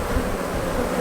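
Bees in an open beehive buzz in a dense, steady drone, close and continuous for a brief moment, with no talking.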